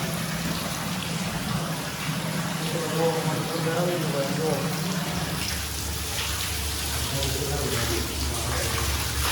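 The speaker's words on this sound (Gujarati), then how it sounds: "ચાલો ભાઈ, પાણી આવી ગયું જોવો ભાઈ" Water gushes from a borewell pipe into a well, a loud, steady, continuous rush and splash that fills the whole stretch without pause.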